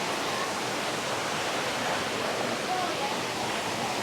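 A steady broadband rush of water flows through the courtyard of the Neelkanth Mahadev Shiva temple near Rishikesh, continuous and fairly close with no pauses.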